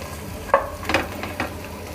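Bread pieces being stirred into sautéed vegetables in a pan for bread upma, giving three short scraping, stirring strokes over a faint background sizzle, with no talking.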